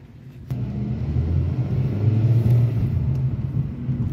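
A Hyundai Accent's engine rumbles and builds as the car pulls away on a test drive, a steady low drone heard from inside the cabin with no talking.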